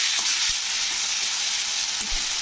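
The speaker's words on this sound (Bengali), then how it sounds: "আদা রসুনের পেস্টটাকে কিন্তু পেঁয়াজের সঙ্গে নাড়তে হবে যতক্ষণ না আদা রসুনের গন্ধটা কেটে যাচ্ছে।" Ginger garlic paste with onions frying in a pan, a steady bright sizzle throughout with soft scraping stirs at intervals, close and continuous, no voices.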